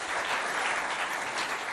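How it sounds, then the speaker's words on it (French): Children applauding together at a school event, a dense, steady burst of clapping that fills the whole moment without a break. "Applaudissez bien fort pour vous, s'il vous plaît"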